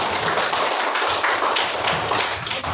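A classroom of students claps their hands together during a lesson, a continuous, fairly loud patter of overlapping claps with no talk.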